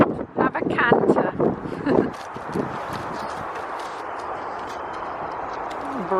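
A horse canters along, its quick clip-clop hoofbeats close and loud over the first two seconds before fading into steady wind noise. A voice can be heard faintly.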